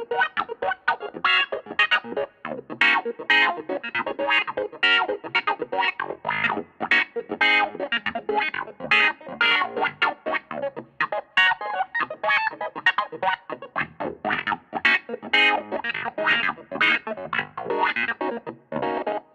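A Spectrasonics Keyscape virtual keyboard plays through a touch wah effect, with the wah cutoff controlled by pedal or mod wheel. Loud choppy chords and notes come in dense rhythmic bursts with a distorted, sweeping filtered tone, with no talking.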